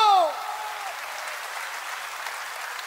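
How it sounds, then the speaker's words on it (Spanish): Crowd applause rises at a Spanish-language poetry battle right after a shouted voice, a soft, distant, steady wash of many hands clapping that holds at an even level. "¡Fuerte el aplauso!"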